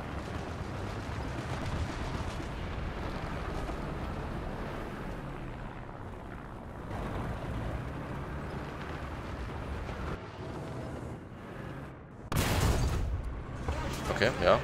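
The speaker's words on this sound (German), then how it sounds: "Jetzt weißt du, ich schieße einem Panther durch die angewinkelste Front überhaupt" Tank cannon fire from an Object 248 in War Thunder, with a single heavy blast near the end standing out over a continuous rumbling battle and engine din; a voice speaks over it.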